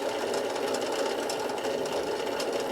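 A Bernina sewing machine stitches in a steady, continuous mechanical whir, loud and close, with no talking over it.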